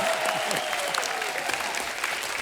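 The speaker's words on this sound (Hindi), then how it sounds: "सोनम जी के लिए जोरदार तालियां" Studio audience at a television comedy talk show claps loudly and steadily in a brief burst, a dense even wash of applause with a faint voice over it.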